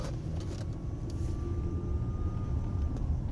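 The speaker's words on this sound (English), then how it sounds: "Car accelerates, transmission's working very well." A 2005 Lexus ES 330 accelerating on a street, its engine and road rumble rising steadily from inside the cabin, with a thin whine climbing then settling over about three seconds.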